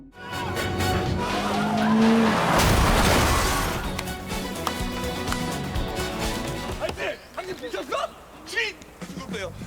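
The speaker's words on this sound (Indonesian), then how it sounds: "Haikang menabrakkan mobilnya ke mobil merah tersebut untuk membuka jalan" A car ramming a red sports car blocking the road, with engine roar, tire squeal and a crunching impact amid dramatic background music, followed by scattered clatter; people speak over it.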